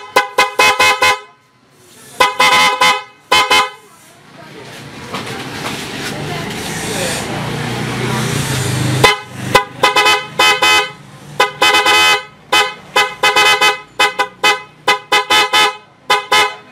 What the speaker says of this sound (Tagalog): Tapos subukan natin yung kanyang busina.